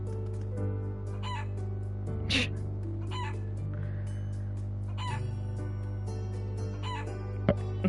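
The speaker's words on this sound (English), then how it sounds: "Kick the chicken!" A chicken in the video game Trails of Cold Steel IV, clucking and crowing in short, bright repeated bursts over a steady low game-music drone, with a few sharper squawks.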